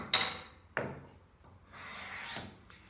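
A wooden hand plane cutting shavings from a wooden board: a few short scraping strokes, two sharp quick ones then a longer drawn-out rasping pass, close and fairly quiet with no speech.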